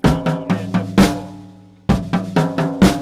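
A drum pattern of five-stroke rolls with quick double hits on toms and snare, a brief pause as a tone rings out, then the pattern resumes.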